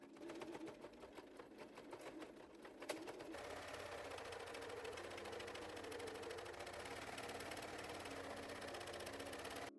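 A sewing machine runs a straight stitch attaching a waistband along the top of a skort, a steady fast mechanical whir that continues unbroken and close up, fairly quiet overall.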